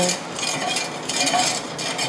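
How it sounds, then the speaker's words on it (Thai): Steady scraping and swishing of a spoon stirring coconut milk, salt and agar powder in a pot, continuous and close, with no talking. "ทีนี้ก็คนนะคะให้เข้ากัน"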